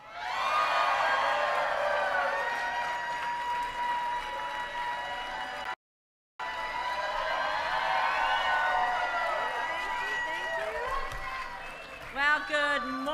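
A large outdoor campaign rally crowd cheers and whoops continuously, with shrill whistles and shouts over a roaring wash of applause; the noise drops out briefly, then resumes and fades near the end.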